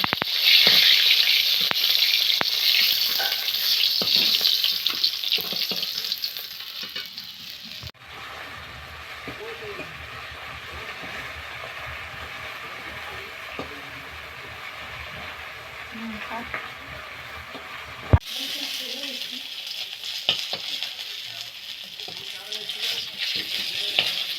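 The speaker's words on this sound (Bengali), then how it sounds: "এরকম করে মাছটা ভেজে নিতে হবে।" Lotte fish sizzles and crackles in hot oil in a kadai, loud and bright at first, then settling into a softer steady fry with occasional utensil clinks.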